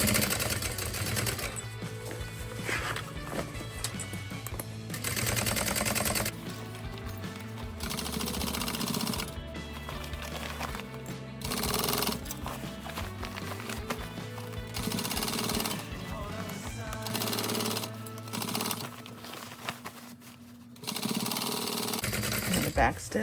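A sewing machine runs in short bursts and pauses while back stitching a tote bag, its rapid mechanical chatter stopping and starting, with a person talking between and over the stitching.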